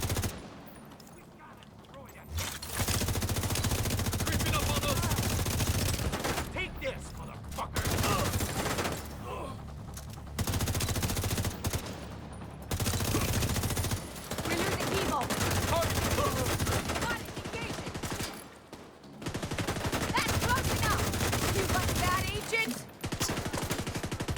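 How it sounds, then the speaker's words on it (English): Sustained video game gunfire, dense bursts of rapid shots and fusillades in long stretches broken by brief pauses, loud and up close across the whole span. "That's a lot of shots."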